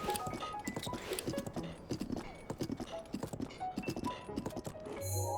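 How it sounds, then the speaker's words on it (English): Horse hooves clip-clop at a steady riding pace in Breath of the Wild, crisp repeated hoofbeats close up with light ambient background. "Riding a horse named Horsey."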